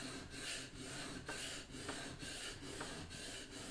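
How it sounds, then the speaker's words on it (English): Blade bevel of a smoothing plane is rubbed back and forth on a coarse sharpening stone, giving steady, close gritty scraping strokes in a regular rhythm with no speech. "make sure that the bevel is flat on the stone, and you'll notice that I'm holding it at a bit of an angle. I just go backwards and forwards."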